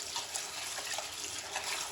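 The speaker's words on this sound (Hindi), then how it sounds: "यहाँ पे हम खुले पानी में इनको अच्छी तरह धो लेंगे" Rice is washed by hand under running tap water, a steady rushing flow with soft splashing and churning, fairly close and continuous, with no talking.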